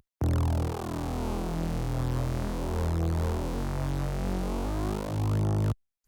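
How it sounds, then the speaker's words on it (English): An unprocessed Serum synth bass from an electronic music drop plays alone for about five seconds: a loud, dense, buzzing low tone that holds steady, with the notes shifting in pitch partway through. "The main bass sound in this drop comes from Serum"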